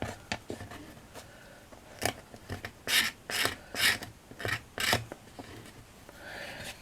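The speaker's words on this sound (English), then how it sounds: "Just going to use the knife and then just scrape that off." A craft knife scrapes across chipboard in a series of short, rasping strokes, with several louder scrapes bunched in the middle, close by and alone without talk.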